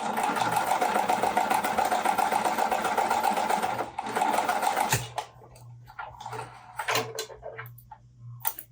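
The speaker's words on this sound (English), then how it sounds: "I'm just using an older Singer 5528." An older Singer 5528 sewing machine stitches quilt triangles with a fast, steady, close mechanical whir for about five seconds. It then stops, leaving softer handling clicks and rustles.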